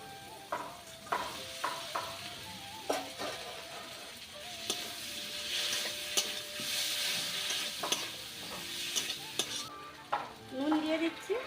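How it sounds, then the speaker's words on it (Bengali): Fried potatoes get stirred into a cooked-down masala in a pan. There is a quiet, steady sizzle, with repeated clacks and scrapes of a spoon against the pan as the mixture is turned over. "এবার আমি ভেজে রাখা আলুগুলো দিয়ে দিচ্ছি।"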